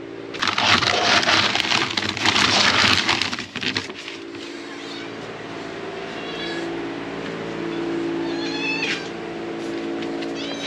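Several hungry cats meow insistently in a barn at feeding time, close by and overlapping, after a loud burst of rustling and clattering at the start; a faint voice is briefly audible.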